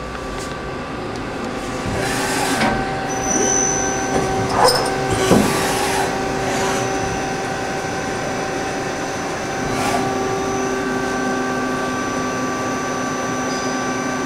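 A 1995 Okuma & Howa ACT-35 two-axis CNC lathe runs a cycle, giving a steady smooth mechanical hum with faint whines and a few brief clicks, fairly close and continuous.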